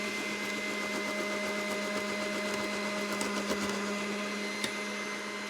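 A vintage Oster Kitchen Center food processor runs at a higher power setting, a steady motor whine with a constant hum and a couple of small rattles, unbroken for the whole stretch.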